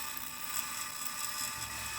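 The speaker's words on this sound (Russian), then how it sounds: "Теперь рассверливаю отверстие сверлом по диаметру шпильки." A drill press widening a hole in a knife handle with a larger bit sized to a threaded stud gives a constant whirring whine, steady and moderately quiet, with a slight low rumble entering near the end.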